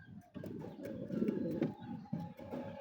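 Pigeons in a home pigeon loft, one pair sitting with a chick, give low, steady cooing that runs almost continuously, fairly faint and with no talk over it.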